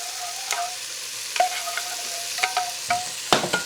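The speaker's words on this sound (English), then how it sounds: "I'm going to give my sugar a stir to help it dissolve." Sugar being stirred in a pot to dissolve it, with a run of light scraping and clinking spoon strokes over a low background hum, close and fairly quiet, with no talk.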